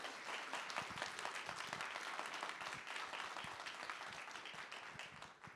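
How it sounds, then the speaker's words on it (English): Audience at a college alumni honors ceremony applauding the panel, steady dense clapping from many hands at moderate distance, continuing without a break. "let's go ahead and give a round of applause to our panel here,"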